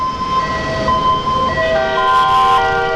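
An ambulance siren wails steadily on a busy road in Ludhiana, its two-tone pitch gliding and shifting as it passes through slow traffic, loud over a constant low rumble of vehicles.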